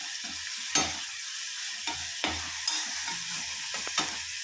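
Bottle gourd peel frying in a pan, a steady sizzle with several sharp spatula scrapes and knocks spaced through the clip, near and fairly clear, with no one speaking.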